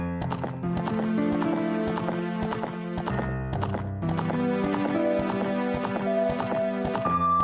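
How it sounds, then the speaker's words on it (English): Galloping hooves of a horse in the video game The Legend of Zelda: Ocarina of Time, a steady clip-clop rhythm running throughout, loud and close, layered over calm piano music. "I hear the calm keys of the piano added with the galloping noise of Link's horse."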